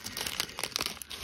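Crinkly plastic wrapper of a Lotte Bikkuriman chocolate snack is torn open after being cut with scissors, a close, busy rustling and crackling lasting about a second.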